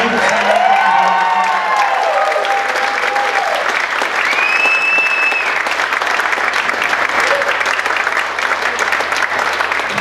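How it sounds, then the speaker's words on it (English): At a 2015 chorale cabaret at Bill Miller's Castle in Branford, Connecticut, the audience gives sustained, loud, dense applause for the choir. It carries on for ten seconds, with a few whoops and cheers rising over the clapping. "Can we have another round of applause for the chorale?"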